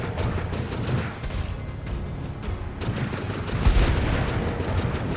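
Dense bursts of gunfire from the video game The Falconeer, steady rapid shots with heavier booms mixed in, loud and continuous throughout with no speech.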